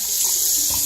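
Water runs steadily from a tap into a neti pot, a close, continuous hiss and splash with no talk over it.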